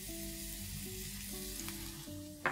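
Crushed ginger, garlic and green chili sizzling in hot oil, a steady close frying hiss with a low tonal hum underneath and a sharp clink right at the end.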